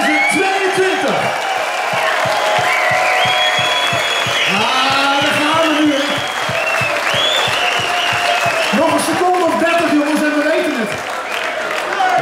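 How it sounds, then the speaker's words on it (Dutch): A crowd at a charity swim event in Westland claps loudly and continuously, with whoops and cheers, while a voice booms over the applause through much of it. "om deze mensen een oorverhoofd applaus te geven voor de organisatie van de Local Swim"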